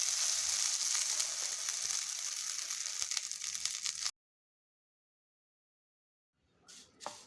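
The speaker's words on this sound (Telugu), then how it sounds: "శనగకాకును వేపుతున్నా అండి." Chickpea leaves dry-roasting in a pan, heard as a steady close hiss and crackle for about four seconds, then silence, followed by a brief rustle and scrape near the end.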